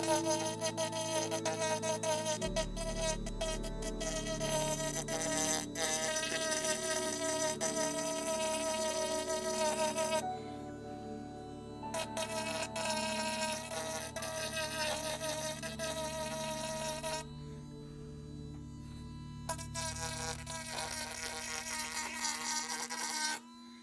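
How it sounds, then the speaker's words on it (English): Rotary ball sander smoothing a wood carving, a high continuous whine and buzz close by that runs for the whole stretch, with the pitch shifting as it presses into the wood. "This is basically a ball sander. This is the one that makes everything relatively smooth."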